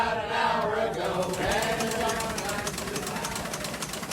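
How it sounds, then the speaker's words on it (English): A historic newspaper printing press at the Vineyard Gazette offices in Edgartown runs steadily, with a dense mechanical clatter and a rapid repeating rhythm over a continuous roar, loud and close throughout. "That's the sound of the historic press in the Vineyard Gazette offices in Edgartown printing the paper."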